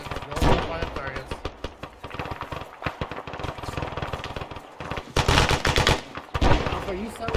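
Suppressing fire on a field training exercise: rapid bursts of automatic gunfire crackle close and loud, with heavier bursts toward the end, while soldiers talk over the shooting.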